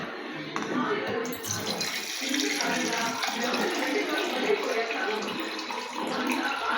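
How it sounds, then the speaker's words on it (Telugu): Water runs from a kitchen tap into a vessel in a steady, close, rushing stream that continues without a break throughout. "వాటర్ పట్టుకుంటున్నాను."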